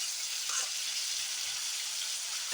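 Tomatoes sautéing with a little salt in a pan give off a soft, steady hiss and faint crackle, quiet and even throughout with no voices.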